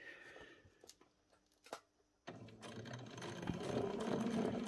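A sewing machine stitches a pajama collar and waistband, first a few slow clicks and knocks as the needle is set, then a steady, even whirring run of straight stitching.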